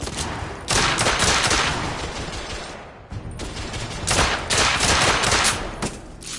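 Sustained, loud gunfire in The Order 1886, dense bursts of shots filling the scene with a brief pause midway before resuming, close and without talk.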